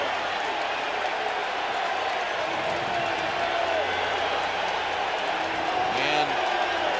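A baseball stadium crowd at a 1998 Houston at San Francisco MLB game roars in a dense, sustained wash of cheering and applause, with distant murmurs and a brief whistle-like call near the end.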